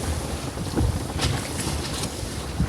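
A sailboat moves through gusty winter wind, with heavy wind buffeting the microphone and a wash of water and waves underneath; loud and continuous, no talk.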